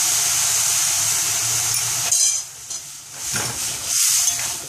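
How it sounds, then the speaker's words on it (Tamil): Fenugreek leaf kuzhambu made with tamarind water boils in a pot, oil rising to the surface, giving a soft hiss and low bubbling that thins out midway, then returns in uneven bursts, with faint stirring. "நன்றாக கொதித்து எண்ணெய் மிதக்கும்போது நன்றாக கொதிக்க விடணும்"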